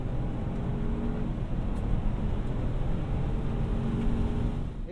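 A 2021 Chevy Trailblazer engine held at full throttle, a steady rough drone with wind and road rush, fairly loud and continuous without any voices.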